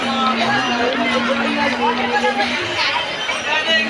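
A crowd throngs Kashi Vishwanath temple in Varanasi, a loud, continuous babble of many overlapping voices close by, with a sustained chant-like tone running through the chatter.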